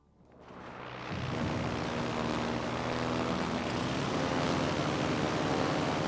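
Propeller planes from an aircraft carrier in a naval video game swell up from quiet into a steady, loud engine drone that holds without a break.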